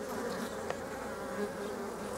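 Honey bees buzz around an open hive while a beekeeper inspects a nucleus colony with an old wingless queen, a dense close hum with individual bees whining past, steady and without talk.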